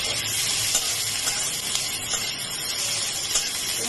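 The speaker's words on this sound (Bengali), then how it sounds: "একটু গাজর দেবো এই দেখি মিডিয়াম টু লোতে হালকা করে ভেজে নেব" Carrots fry lightly in a pan on medium-low heat, a dense, steady hissing sizzle close up, with faint stirring and no talk.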